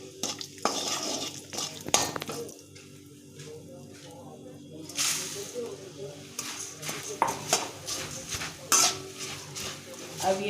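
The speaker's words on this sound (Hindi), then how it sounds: "जीरे के साथ ही मैं ये नमक और साथ में हल्दी दोनों इसी के अंदर डाल के" Cumin, salt and turmeric sizzle in a pan while a utensil scrapes and clinks against the metal in irregular strokes, and someone talks throughout.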